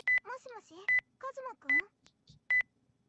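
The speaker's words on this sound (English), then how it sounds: "The abrupt ringing of my cell phone tears me away from my thoughts of laziness." A cell phone rings abruptly with short, bright electronic beeps repeating at a steady pace, interleaved with a melodic chirping tune between the tones, close and clear against silence.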